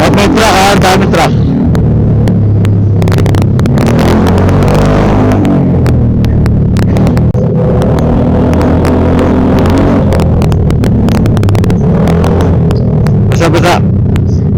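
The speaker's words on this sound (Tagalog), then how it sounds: "May truck ha, dami truck." Trucks and other traffic rumbling past on a mountain road from Sagada toward Baguio at night, heard close to a stopped Yamaha XMAX 300 scooter, with loud engine surges and passing rushes.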